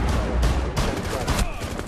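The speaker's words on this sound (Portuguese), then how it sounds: "Olha quantos tiros dele de shotgun nesse filho da puta." Shotgun blasts in the video game Rainbow Six Siege during a ranked match: heavy, booming shots in quick succession, loud and close, with players' voices mixed in.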